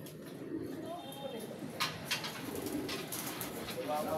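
Pigeons coo softly in the background while a few sharp flutters of wings break through, with quiet voices murmuring nearby.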